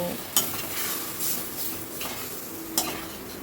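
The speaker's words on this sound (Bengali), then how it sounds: "জলটা দিয়ে আবারও সব কিছু ভালো করে কষিয়ে নেব" Taro stir-fried in hot oil in a wok with a splash of water, giving a steady close sizzle under scraping stirs and a few sharp utensil knocks against the pan.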